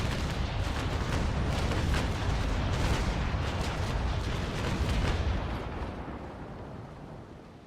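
Broadside cannon fire from a sailing warship's larboard guns in a naval combat game, a dense rolling barrage of deep booms that keeps up for several seconds and then fades into a dying rumble.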